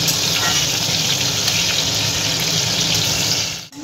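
Chopped tomatoes fry in oil in a pan for a Tangra fish curry, a loud, steady close sizzle with a wet bubbling texture throughout, cut briefly at the end by a soft knock.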